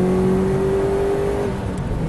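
A Subaru Impreza WRX STI engine pulls hard in fourth gear from 3,000 rpm with a rising, sustained roar and steady whine, heard from inside or close by, lasting about two seconds.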